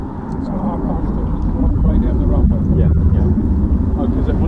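A Eurofighter Typhoon jet roars overhead at RAF Waddington during the Cobra Warrior exercise, a loud, sustained engine rumble swelling slightly toward the middle and holding steady to the end.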